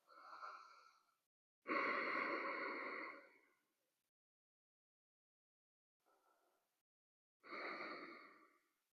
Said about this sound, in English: Darth Vader breath.